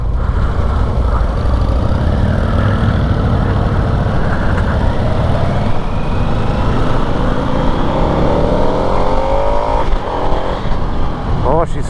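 A 2022 Harley-Davidson Sportster Nightster engine on a test ride, a loud, steady roar with wind rush and rising revs toward the end, while someone talks over it.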